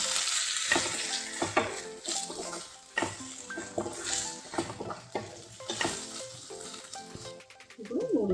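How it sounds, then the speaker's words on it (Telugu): Veg Hakka noodles tossed and stirred in a hot pan with a spoonful of green chilli sauce, a steady close sizzle under repeated scraping and clinking of a utensil against the pan, with no talking. "ఇప్పుడు 1 స్పూను గ్రీన్ చిల్లీ సాస్ వేసుకుందాం. అప్పుడు కలిపేసుకుందాం."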